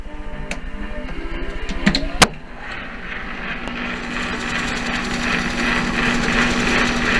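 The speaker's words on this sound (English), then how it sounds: "gently hit this with a piece of sandpaper to clean up any goop or oxidation on the outside" Sandpaper scrubs over a metal part on a Page Lewis Model D rifle under repair, a steady close rasping rubbing that builds after a few sharp knocks and clicks at the start.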